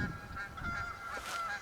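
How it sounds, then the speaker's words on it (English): Geese honking in the hunting video game Way of the Hunter, a flock's repeated nasal calls overlapping continuously over a low outdoor ambience. "There's freaking geese everywhere."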